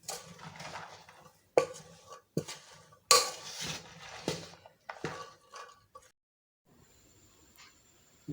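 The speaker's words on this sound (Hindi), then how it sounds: "10 अदद नींबू का रस, इसको हम अच्छी तरह मिक्स कर लेंगे।" Chopped onion and lemon juice being mixed for chana chaat produce sharp spoon-on-bowl clinks and scraping in irregular bursts, separated by short quiet pauses, with faint clicks near the end.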